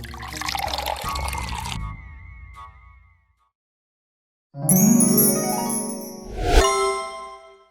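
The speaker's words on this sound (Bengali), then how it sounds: "তুমি ওই জলটা ছুঁড়ে মারো ওর মুখে" A cartoon splash effect plays as water is thrown at someone's face in a Bengali horror cartoon: a bright watery burst with ringing, tinkling tones, then a second splashy hit, set apart by a silent gap after earlier sound.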